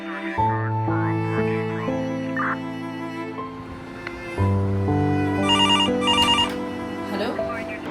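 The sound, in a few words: telephone ringing at a police station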